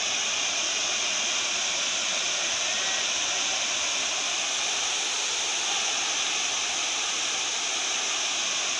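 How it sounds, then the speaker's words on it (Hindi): A small waterfall on a hillside at Chikhaldhara, water flowing down the slope as a steady, even rush of moderate loudness that continues unbroken with no talking. "ये मिनी वाटरफॉल भी बोल सकते हैं"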